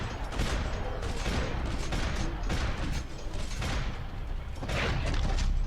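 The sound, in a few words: gunfire in Max Payne 3 video game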